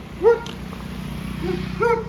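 A dog gives two short, close yips or barks about a second and a half apart, with a softer whine between, outdoors at an agro-tourism hotel.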